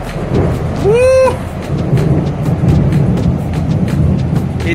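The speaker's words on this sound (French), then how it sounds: "l'éclair il était juste là." Thunder from a nearby lightning strike rolls through a tropical storm in Mexico, a loud, sustained rumble with rain and wind, plus a short rising voice exclamation near the start.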